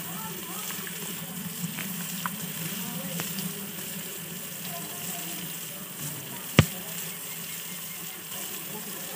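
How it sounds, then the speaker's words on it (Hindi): Steady sizzling and crackling of red chilies and spices frying in hot oil for a tempering of kachnar gosht, with one sharp clink partway through. "मसाले को हम तड़का लगा रहे हैं"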